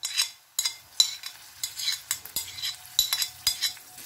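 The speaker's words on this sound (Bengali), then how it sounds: "পেঁয়াজ রসুনটা একটু ভাজা ভাজা হয়েছে, এবার আমি দিয়ে দিচ্ছি দই মাখানো চিকেনটা," Yogurt-marinated chicken being stirred into frying onion and garlic in a pan, with repeated scraping and clinking utensil strokes over a steady sizzle, close and fairly loud.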